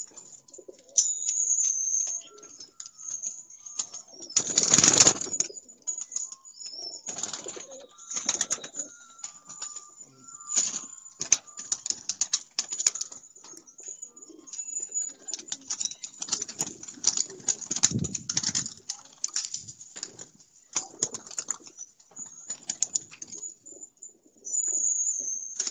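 Rampuri pigeons coo softly and flap their wings in scattered, irregular bursts, with one loud flurry of wingbeats early on and quieter rustles and calls throughout.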